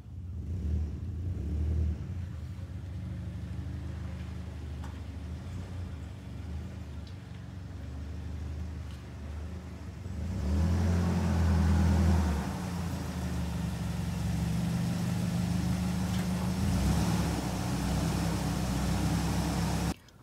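A car is driven up onto a shaded driveway before an AC performance test. A low idling engine rumble rises into a louder, steadier drive for several seconds, then settles, with no talking.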